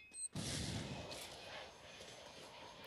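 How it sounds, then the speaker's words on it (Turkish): A grenade goes off in the Free Fire battle royale shooter: a sudden loud blast after a short quiet moment, then a rumbling, fading tail of debris and distant gunfire. "Bir bomba atacağım"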